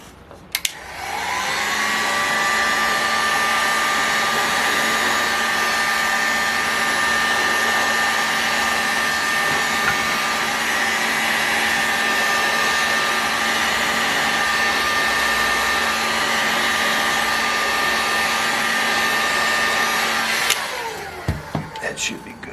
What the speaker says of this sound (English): heat this crankcase up one more time, and expand, get the metal to expand, and so it can accept these bearings